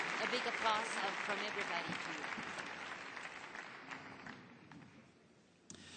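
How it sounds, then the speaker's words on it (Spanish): An audience at a debate event claps loudly at first, the applause gradually fading over several seconds until it dwindles to scattered claps near the end. "Un aplauso de todos para ustedes."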